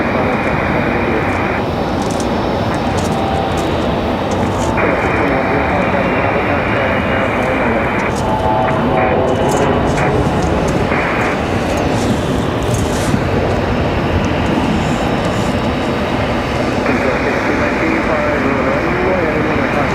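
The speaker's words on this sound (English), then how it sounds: "777 departure sounds amazing" Boeing 777 jet departing Raleigh Durham International Airport, a loud steady broadband engine roar that fills the whole clip without letting up, with some talk mixed in underneath.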